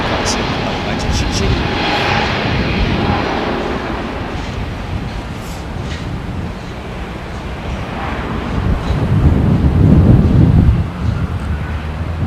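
An airliner at Stansted airport taxis with a broad, steady jet whine and rumble that swells louder toward the end, under wind buffeting on the microphone and some talking.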